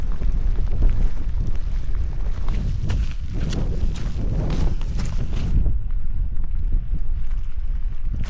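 Heavy rain and gusting wind batter a hiker on an old byway in the hills near Buxton, a steady close roar of wind buffeting and rain filling the whole stretch without letup.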